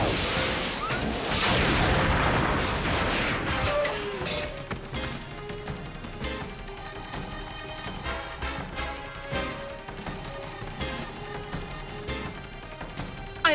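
A cartoon volley of gunfire and booming blasts erupts loud at the start of an animated sci-fi battle, then fades into a sparse tail of softer shots and effects.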